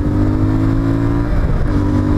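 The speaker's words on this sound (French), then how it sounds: "Je passe les vitesses à deux doigts, ça passe très bien." CF Moto 450MT motorcycle engine revving hard and steady, loud and close, with a short dip partway through as a gear is shifted.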